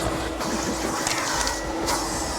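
A vacuum cleaner sucks up dirt inside a Subaru WRX, a steady broadband whoosh with rattling debris, loud and close throughout.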